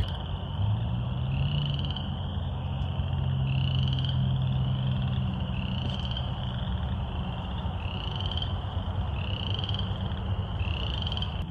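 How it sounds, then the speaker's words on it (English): A chorus of frogs croaking outdoors in a creek and wet ground, with repeated rising calls pulsing in a steady rhythm over a continuous low background din. "there are so many frogs in this like creek and in the wet ground behind us"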